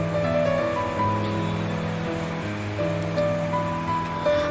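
Chicken pieces drop into hot oil in a frying pan for chicken malaikari and sizzle in a continuous, fairly loud hiss that swells slightly now and then, with no voices.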